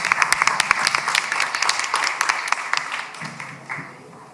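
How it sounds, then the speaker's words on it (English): A small panel-session audience claps for the panelists. Distinct, sharp individual claps form a lively patter that thins out and fades over the last second. "I would just give a big round of applause to our panelists"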